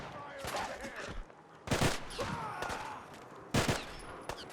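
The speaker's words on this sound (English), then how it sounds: "Forgot how fast firing this fucking gun was." Rapid bursts of gunfire from a fast-firing gun in the video game Fallout 4, several sharp volleys loud and close with brief pauses between them.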